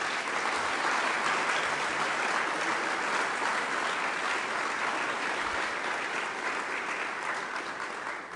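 An audience at a public event claps for a group of honored individuals, producing a full, sustained round of applause that swells early and tapers slightly near the end, with no voices.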